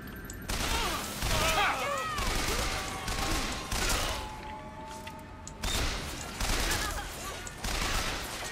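A turret in BioShock Infinite firing at the player, loud bursts of rapid gunfire in repeated volleys with short gaps, mixed with game clatter and a voice talking over it.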